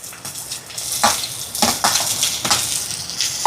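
Onions and tomatoes sauté in a pan for prawn noodles, a soft sizzle running underneath as a spoon scrapes and stirs in irregular strokes, close and fairly loud, with no one talking.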